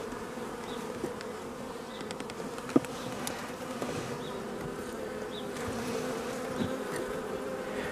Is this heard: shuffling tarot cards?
no